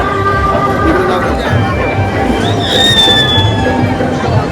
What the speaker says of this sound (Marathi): लोकांची गर्दी लागली बघण्यासाठी.